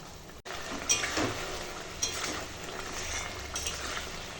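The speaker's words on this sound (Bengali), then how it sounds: "এখন বেগুন দিয়ে কাঁচা ইলিশটা রান্না হচ্ছে" Raw hilsa fish simmering in a boiling turmeric curry with eggplant gives off a soft, steady bubbling sizzle, with a few light clinks of a spoon or pot close by and no talking.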